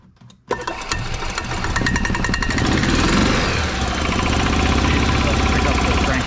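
Gas engine of a 1994 Club Car DS golf cart, with a fault where it stopped and would not start, cranks briefly after a quiet moment, then catches and runs with a loud, rapid, clattering idle close by.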